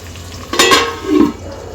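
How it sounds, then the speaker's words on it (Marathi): Potatoes being sautéed in a pan for Nagpur-style chana poha give two brief, close stirring scrapes over a faint low sizzle. "बटाटे आपण छान परतले आहे"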